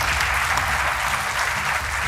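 Steady applause from a TV game show studio audience welcoming the contestants, dense, even and unbroken over a short stretch.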